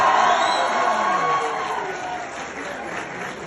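A crowd cheers and applauds with whoops for poet Mohammad Ameen Sadiq as he is introduced at a ghazal recital, loud and dense at first and easing slightly over a few seconds.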